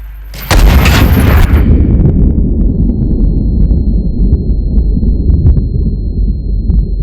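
A single heavy turret cannon blast from the game IRON NEST: Heavy Turret Simulator, loud and close, with a sharp crack followed by a long deep rumbling roar that lingers and slowly fades.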